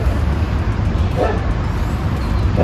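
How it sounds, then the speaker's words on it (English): Neighbouring dogs bark and yip in short bursts from next door, moderately distant, over a steady loud background hum of traffic or wind. "As long as the dogs next door aren't having a cow."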